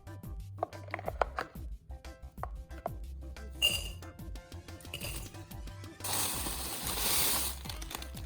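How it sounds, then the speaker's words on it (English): Cream and crumbled shortbread cookies stirred together in a bowl, with soft clinking, scraping and chopping-like taps at close range, ending in a denser rustling patch of mixing sounds over light music. "Combine cream and cookies in a bowl. Mix well together."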